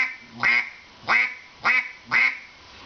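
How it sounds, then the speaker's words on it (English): Four quacks blown on a duck call, each a short raspy honk with a growly start that tails off, evenly spaced about half a second apart, close and loud with quiet between them. "like mouth the word quack into the call."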